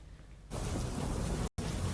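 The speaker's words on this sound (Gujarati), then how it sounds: "વડોદરામાં ભારે વરસાદ જોવા મળી રહ્યો છે" Heavy monsoon rain in Vadodara roars as a dense, steady wash after a quieter start, broken by a momentary silent gap.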